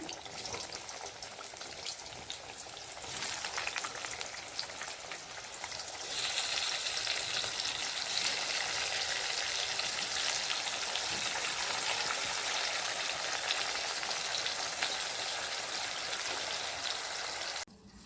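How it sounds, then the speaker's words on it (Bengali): Steady, dense sizzling of five kinds of fritters frying in a pan, with a bright hiss that swells louder partway through and continues evenly without talk. "এখন রান্না হচ্ছে পাঁচ রকমের ভাজা করছি"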